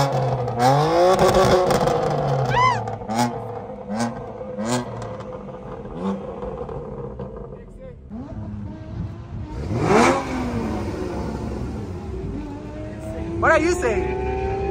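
A stock BMW M2 engine revs and accelerates hard in repeated rising and falling pulls, loud and close, with a brief tire squeal, while people talk over it throughout.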